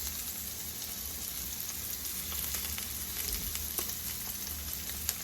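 Salmon pieces sear in a hot frying pan with a loud, continuous close-up sizzle and crackle, scattered pops, and faint stirring or scraping; no one speaks.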